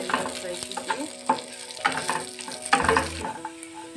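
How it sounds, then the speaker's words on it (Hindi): Sewai vermicelli frying for a tadka in a pan, with a steady close sizzle and repeated scraping stirs throughout, no talk. "तड़के के लिए हम अच्छे से फ्राई करेंगे लाल होने से"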